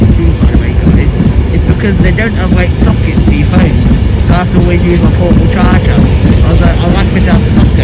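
Class 352 passenger train at a station, a loud low rumble and clatter of the train running throughout while someone talks over it close by.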